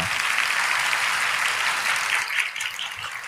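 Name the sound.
audience applause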